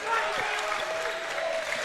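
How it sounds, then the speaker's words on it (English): A crowd at a high school basketball game cheers and claps in a dense, steady roar, with a commentator's voice running over it. "Crowd gets into it."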